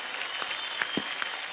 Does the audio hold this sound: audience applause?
yes